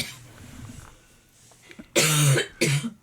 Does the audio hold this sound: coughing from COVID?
yes